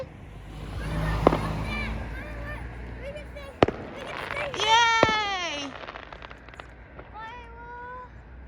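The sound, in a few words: fireworks going off on Bonfire Night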